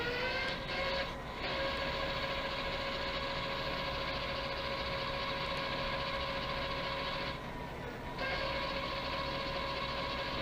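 Swytch e-bike conversion hub motor spinning the wheel under thumb throttle, a steady close electric whine with constant hum, briefly dipping twice before resuming at the same pitch, no voices.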